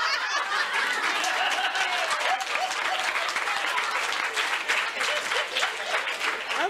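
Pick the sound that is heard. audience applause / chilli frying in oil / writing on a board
audience applause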